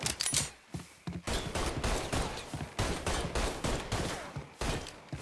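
Rapid gunfire in Mafia III, with repeated loud bursts and single shots following one another across the whole stretch, close and dense, with brief gaps between volleys.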